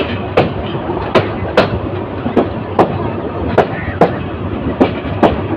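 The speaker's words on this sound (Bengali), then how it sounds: "তার গতি কমিয়ে মানিকখালি রেল স্টেশনের এক নম্বর প্ল্যাটফর্মে প্রবেশ করেছে" Kishorganj Express slowing into platform one at Manikkhali station, a small stop on the Bhairab–Mymensingh section, with a steady rumble broken by sharp, roughly evenly spaced wheel clacks over rail joints.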